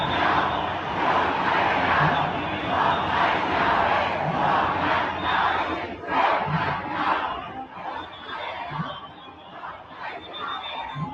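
A huge protest crowd in Toronto chants and cheers together, rhythmic massed voices rising and falling in waves, loud and sustained throughout with no clear individual speech.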